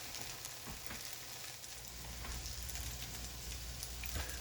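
Hot water cornbread patties frying in a pan of oil, a steady close sizzle with scattered pops and crackles throughout, no voices.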